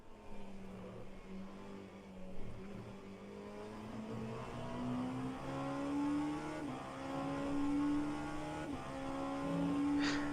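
An Oreca LMP2 race car engine in rFactor 2 drones steadily through the Le Mans 24-hour race, with rising pitch sweeps through upshifts and a steady, moderately loud whine with no talk.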